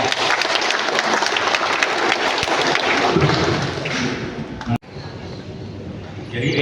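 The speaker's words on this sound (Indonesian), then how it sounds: "Ya, tepuk tangan dulu lah." Applause breaks out at a military unit gathering in an Indonesian district command hall: dense clapping from a seated audience with thumps mixed in, fairly loud and steady, thinning after a brief gap toward the end.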